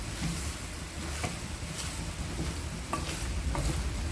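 Boiled egg bhurji frying in a pan, a steady soft sizzle with occasional light stirring scrapes and clicks, close and quiet with no talking.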